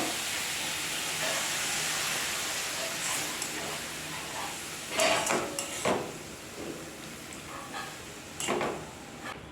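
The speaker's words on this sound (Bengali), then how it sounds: "এরপর দিয়ে দেবো জল" Water poured into a hot pan holding mustard paste with chilli, a steady hissing steam and sizzle running throughout, with a few louder bursts of clatter from pots and pans partway through.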